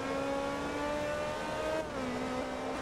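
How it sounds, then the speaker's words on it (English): Race car engine in Forza Motorsport 2 holds a steady, strongly harmonic high-pitched drone, then drops pitch briefly near the end as if shifting gears before settling again, loud and alone with no voices. "Honestly, this car sounds pretty neat, too."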